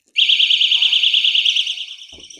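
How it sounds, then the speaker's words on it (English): A Sabre doorstop alarm shrills loudly and continuously with a rapid pulsing warble for about two seconds, then cuts off as faint knocks follow. "see if I can make my way inside with this alarm going off"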